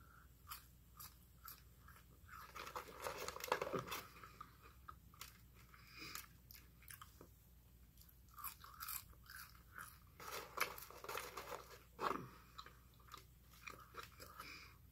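Cold McDonald's fries are chewed close to the microphone, with soft repeated crunching and mouth sounds in an irregular rhythm and no talking.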